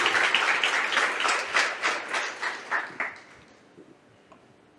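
A church congregation applauds during a worship service, a dense wash of clapping that runs steadily for about three seconds and then thins out and fades to near quiet.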